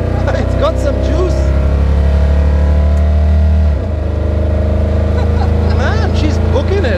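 A 500-horsepower 1941 Chevrolet Master Deluxe street rod accelerating in first gear, a loud, deep engine roar that climbs in pitch and then shifts, heard from inside the car with people talking over it.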